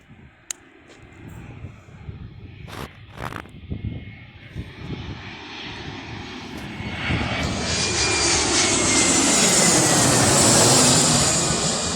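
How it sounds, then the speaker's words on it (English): An EasyJet passenger jet comes in to land, its engine roar rising steadily from a faint, distant hum to a loud, sustained whine and rush, with a few scattered thumps and rustles early on. "There's also a plane landing."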